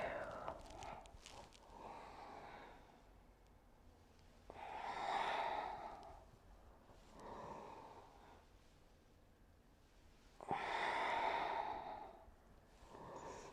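Slow, deep breaths during a seated chair yoga class: soft, airy inhales and longer exhales, with two fuller, louder breaths standing out from the quieter rhythm, close and unhurried.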